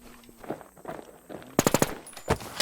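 Rapid automatic gunfire in the video game NewZ, a loud close burst of quick shots with a second shorter volley after, over faint game noise.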